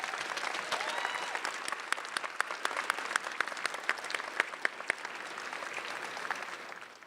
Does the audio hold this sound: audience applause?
yes